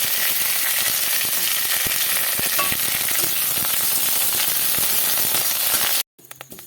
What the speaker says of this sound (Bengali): এখন দিয়ে দেব কারি পাতা পাতা ভেজে নেব ভালো করে